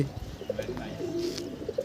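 Pigeons coo on a Punjabi rooftop loft, several soft low throaty calls repeating close by with faint chirps, and no voices.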